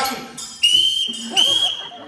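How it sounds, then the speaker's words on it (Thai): A sharp, high whistle shrills twice in short blasts, with background chatter and voices around it. "เสียงนกหวีด"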